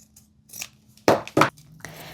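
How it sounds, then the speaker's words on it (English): Sewing scissors snip twice in quick succession close by, trimming the fabric corners of a sewn crossbody phone sling bag near the stitches, with faint lighter cuts before and after. "you want to just take your scissors and get real close, but not through the stitches"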